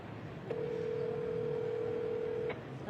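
A single ringback tone from a telephone call on speakerphone sounds steadily for about two seconds as the line rings, with no talk over it.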